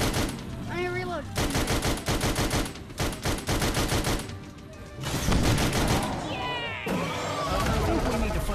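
Rapid gunfire bursts in the virtual reality video game Sam and Max, loud volleys repeating over several seconds with game voices speaking between and over the shots.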